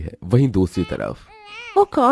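An infant's wavering cry rises clearly in the middle, close and fairly loud, between bursts of a woman's speech that frame it on both sides.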